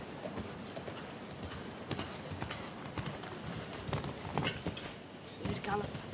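A show-jumping horse gallops toward an oxer during a Grand Prix jump-off, its rhythmic clip-clopping hoofbeats fairly distant under a commentator's voice and arena ambience.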